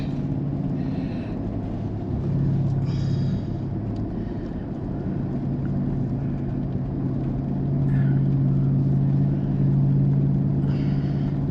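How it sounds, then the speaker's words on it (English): A car passes on a quiet rural road in Australia, a low rumbling swell that builds and fades against steady background road noise, fairly faint and distant. "Oh, another car."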